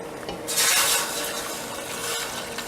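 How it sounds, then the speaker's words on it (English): Water is poured into a pan of meatballs, a brief splashing burst followed by a steady hiss of sizzling and steaming, with no talk. "we put a little water to coat the bottom of that pan"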